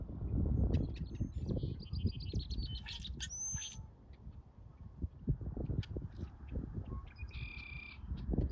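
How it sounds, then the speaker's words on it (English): Two Brewer's blackbirds call close by on open prairie, giving a few short squeaky chirps and whistled notes over heavy wind buffeting and running footsteps. "Those were two Brewer's blackbirds"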